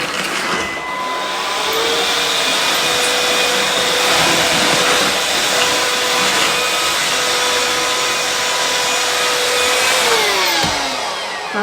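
An old vacuum cleaner without lights runs steadily at close range, a loud continuous whine and rushing airflow that starts up, holds for about ten seconds, then winds down.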